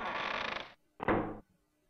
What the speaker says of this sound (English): Without warning, the door suddenly slams shut.